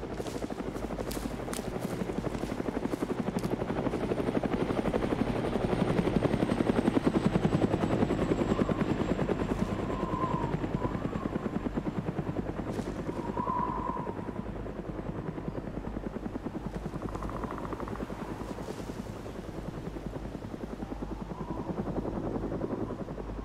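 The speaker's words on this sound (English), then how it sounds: "Another helicopter overhead. Huey sounds like. That's definitely a Huey." A Huey helicopter passes overhead in Arma 3, its steady loud rotor thump and turbine whine holding for the whole stretch, with brief faint radio-like tones drifting over it.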